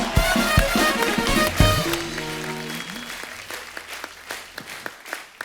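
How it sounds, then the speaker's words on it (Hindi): Studio audience on a comedy talk show bursts into loud applause, dense clapping at first, then fading under music-like tonal lines toward the end. "एक बार जोरदार तालियां अक्षय बाजी के लिए।"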